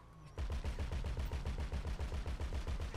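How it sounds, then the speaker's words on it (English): Automatic gunfire in the video game GTA 5 bursts in suddenly and rattles on as a rapid, even stream of loud, close shots. "Shoot the fuck out of him."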